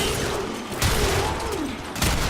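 Tigris Prime shotgun blasts in Warframe, two heavy booming shots roughly a second apart over continuous loud game combat noise.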